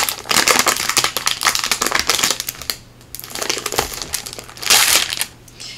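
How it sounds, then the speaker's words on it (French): Packaging for adult colouring books is unwrapped close up, giving loud, busy bursts of crinkling and crumpling with short pauses and no talk. "Ne dites pas qu'il y a un emballage par-dessus un emballage."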